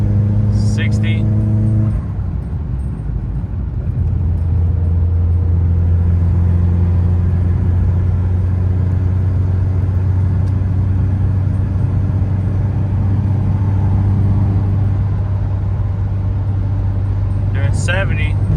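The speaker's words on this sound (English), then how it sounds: "Alright, so we're getting on the highway." A car cruises on a highway at 60 to 70 mph, giving a steady, loud engine and road drone with a constant low hum that carries throughout the stretch, with no talk over it.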